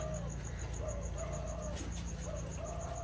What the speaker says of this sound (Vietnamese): Chim gù rất nhiều luôn